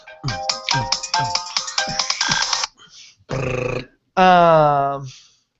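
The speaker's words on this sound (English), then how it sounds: "I need the name of that ringtone so we can get it on Kay's phone" A phone ringtone plays up close: a quick run of bright, rhythmic electronic tones for a couple of seconds, followed by two short buzzy bursts and a sustained warbling tone that fades out.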